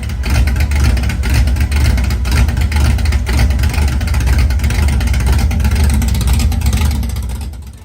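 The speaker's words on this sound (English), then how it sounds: "426 HEMI engine, 425 horsepower of pure American firepower" A 426 HEMI V8 in a classic American muscle car rumbles loudly and steadily, with a deep low-end roar and slight rises in revs. It is close and continuous, then fades a little at the end.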